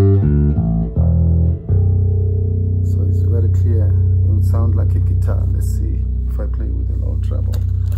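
Electric bass played through an effects pedal with a low treble boost engaged, opening with a few separate low notes, then settling into sustained, continuous tones with added upper-register edge.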